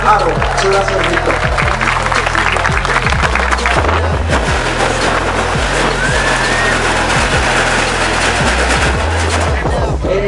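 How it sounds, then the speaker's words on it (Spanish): Audience clapping and cheering at a basketball clinic in Juan Aldama, Zacatecas, welcoming player Víctor, a loud dense crowd applause with sharp claps over a low steady drone. "Un aplauso y bienvenido aquí a Víctor Ángel Aro."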